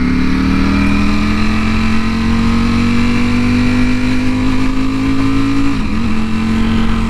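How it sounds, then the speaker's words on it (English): A Ducati motorcycle with a quick shifter cruises at a steady RPM, its engine a loud, unbroken drone mixed with wind rush, heard close from the rider's helmet throughout. "we'll get rolling along in a steady RPM"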